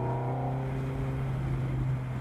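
A Ferrari engine rated at 610 hp holds a steady, droning growl after a downshift into fourth gear, a loud continuous hum heard from inside the car with no talk.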